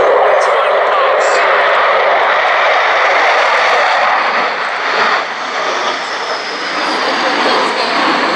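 Avro Vulcan XH558 jet engines roar on the bomber's final pass at the 2015 Cleethorpes Air Show, a loud, sustained broadband roar that swells and stays powerful throughout.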